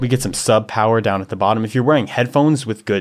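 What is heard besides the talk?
No everyday noise stands out behind the speech.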